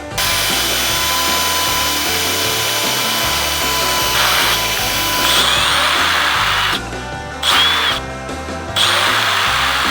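Power drill boring holes through a metal bracket for ignition coils on an Outlaw Pro Mod VW, a loud steady whine running nearly continuously, with brief changes in pitch as the bit bites and the trigger eases.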